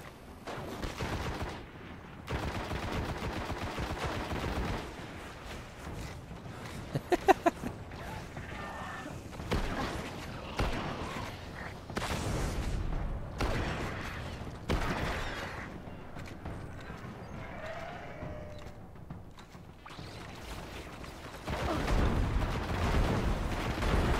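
Gunfire rattles through a Destiny firefight, with bursts of automatic shots, heavier blasts and dense volleys that come and go at medium loudness, plus brief talk.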